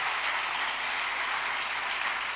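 Church congregation clapping for the Lord during a sermon, a steady dense wash of many hands, fairly faint and distant, with no voices on top.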